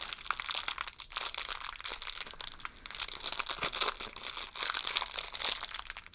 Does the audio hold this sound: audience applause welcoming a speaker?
no